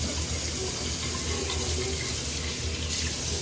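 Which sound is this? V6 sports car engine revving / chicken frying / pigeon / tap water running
tap water running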